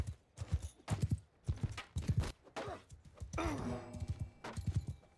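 Horse hooves clip-clop in a regular rhythm in Mount & Blade 2: Bannerlord, a medieval combat video game, with evenly spaced, fairly close thuds continuing across the whole stretch and no talking.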